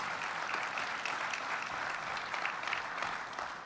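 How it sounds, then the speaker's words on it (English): Audience applause for the mayor at a regional economic development corporation's annual meeting, a steady, even wash of clapping throughout, fairly faint and distant. "The mayor, round of applause."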